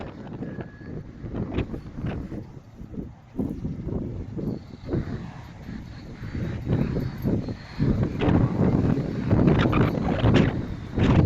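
Strong wind on a Black Sea beach during stormy weather, rumbling gusty buffeting against the microphone that swells and grows louder, with a faint background of distant activity.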